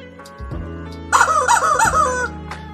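A rooster crows once, loud and close: a rising, wavering call that cuts over a low, steady background hum, with no talking.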